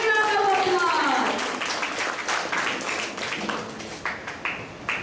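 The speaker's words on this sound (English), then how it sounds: "Give them a big round of applause" Applause from an audience at a children's recitation event, a dense clapping wash that fades as a voice speaks over it.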